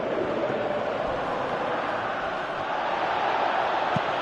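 Steady crowd roar from a football video game, a broad continuous wash of cheering that holds level throughout with no distinct voices standing out.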